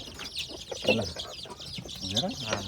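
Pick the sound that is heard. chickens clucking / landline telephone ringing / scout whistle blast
chickens clucking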